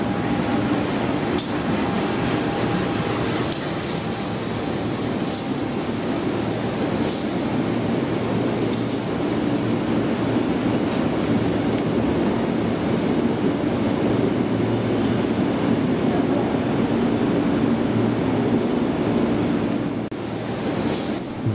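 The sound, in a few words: Kertajaya train running on the rails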